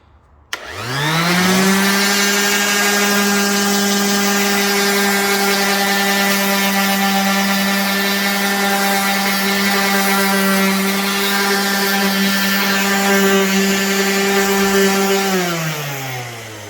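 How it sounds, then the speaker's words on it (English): An electric sander whirs up to a loud, steady motorized drone close by while sanding wood, holds for a long stretch, then winds down at the end. "So we go ahead and start the sander."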